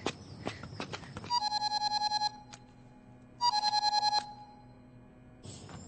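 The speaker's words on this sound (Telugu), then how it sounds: "బ్రదర్ ఫోన్ అందుకో." A phone ringtone plays in two clear repeated bursts of rapid tonal pulses, with short quieter gaps between and other movie sounds before and after, and no speech.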